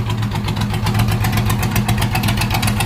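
A race lawn mower engine idles with a steady, rough, knocking rumble and continuous vibration, loud and close throughout, with no voices.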